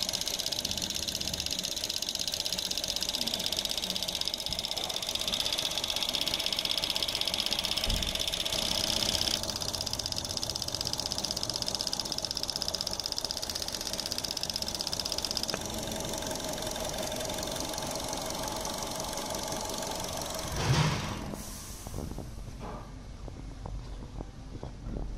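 A car engine idles steadily with its EVAP purge valve disconnected, a smooth continuous hum with a fine ticking rhythm, ending in a brief clunk and quieter running.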